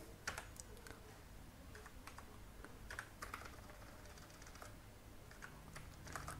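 Soft, steady typing of code on a computer keyboard, quiet keystrokes in an irregular run with occasional sharper clicks, heard close and alone without speech.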